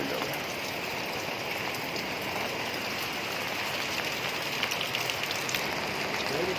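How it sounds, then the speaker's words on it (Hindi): Heavy rain pours steadily over a mountain village lane in Uttarakhand, a dense, even hiss that fills the whole stretch with no voices. "अब बारिश बहुत हो रही है"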